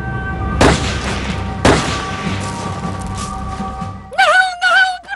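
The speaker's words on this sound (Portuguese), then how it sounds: "Então, ouvimos muitos tiros." Gunfire from a shooting attack: two sharp, loud reports about a second apart over a steady rumble, followed near the end by a rapid cluster of further shots mixed with wailing, high-pitched sounds.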